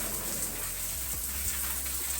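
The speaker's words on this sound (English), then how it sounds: "the rain part of the shower" A rain shower head pours steadily in a holiday park shower, a dense, close hiss of falling water that never lets up, with a faint low hum underneath.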